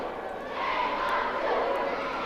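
Indoor wrestling arena crowd at a 1992 ECW event, a loud sustained roar of shouting and booing that swells after the first half second and holds steady with no clear voices on top.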